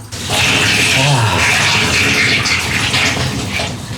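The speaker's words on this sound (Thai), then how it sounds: "แช่ออนเซนอุ่นๆอยู่ในห้องตัวเองนะ" Water flows and splashes steadily in a private onsen hot-spring bath inside a hotel room in Japan, a loud, close, continuous rushing pour.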